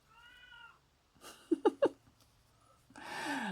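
A domestic cat meows for her dinner in a string of three sharp, close cries, with a softer, drawn-out mew before them and a breathy rustle at the end, heard indoors with no talking.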